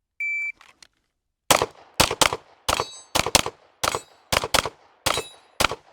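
Pistol gunfire on a shooting range during practice at steel targets, about ten sharp, loud shots in quick pairs and short strings, preceded by a brief electronic timer beep.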